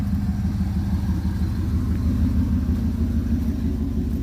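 A warmed-up 1977 Chevrolet Nova engine runs steadily in reverse, giving a continuous low, even rumble at moderate loudness with no talking.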